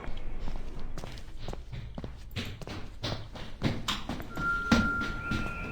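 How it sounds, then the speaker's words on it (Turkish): Footsteps in the horror video game Eyes, a run of close, heavy thudding steps with uneven rhythm, joined near the end by a thin electronic tone. "Ya bu ayak sesi ne?"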